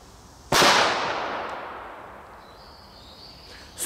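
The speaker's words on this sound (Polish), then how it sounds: "bierze taką petardkę, odpala, sobie rzuca i robi" A German Titanschlagblau firecracker explodes with a single sharp, loud bang that decays into a long, hissing tail, followed by a second burst at the very end, with no talking.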